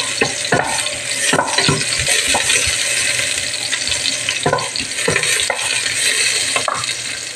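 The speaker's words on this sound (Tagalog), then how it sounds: "Tapos nilagyan ko na ng mantika at ilagay na natin itong ating sibuyas." Onions are dropped into hot cooking oil in a casserole pan for pork sinigang, giving a steady, loud sizzle broken by repeated stirring scrapes.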